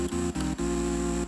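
First layer of a Nexus synth chord layer package: a loud, sustained synth chord briefly cut by short gaps, with no talking.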